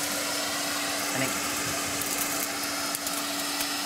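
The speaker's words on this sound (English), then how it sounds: "There's nothing wrong with a pink hairdryer." A pink hair dryer blows in a steady, close, loud whoosh with a faint electrical hum running underneath, and a single word is briefly spoken over it.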